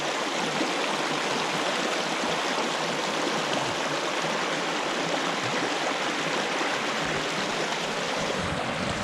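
A small waterfall on a stream on Exmoor near Landacre Bridge rushes and splashes continuously, a steady broadband roar heard close with no breaks.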